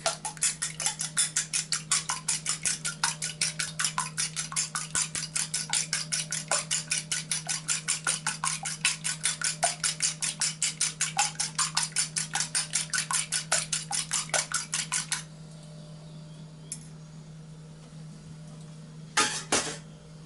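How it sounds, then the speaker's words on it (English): An egg is whisked in a bowl for a bread egg wash, producing rapid, even tapping strokes of a fork against the bowl for about fifteen seconds over a low steady hum, then a pause and a few final clinks. "Mix the egg."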